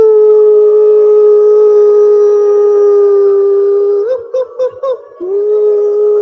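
A group of people imitate a wolf howl with their voices at a conference, a loud sustained wavering tone that holds steadily for several seconds, then breaks into short choppy bursts before resuming.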